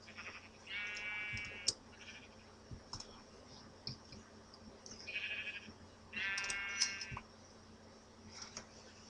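Sheep in the Minecraft video game bleat several times in short, buzzy calls, moderately loud over a quiet background of soft game clicks and faint ambient noise.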